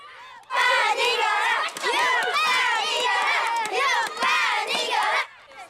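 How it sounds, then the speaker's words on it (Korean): Children shout and cheer together during a team relay at a school sports day split into blue and white sides, a loud, dense crowd of young voices rising and falling over about five seconds. "오랜만에 환호성을 지르고 마음껏 땀도 흘려보는 아이들"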